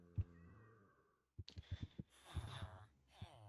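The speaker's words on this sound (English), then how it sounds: "There is a cat stuck in there." A cat stuck in a Minecraft build meows: one short meow, then after a pause a cluster of clicks and a longer, drawn-out meow, moderately loud against quiet game ambience.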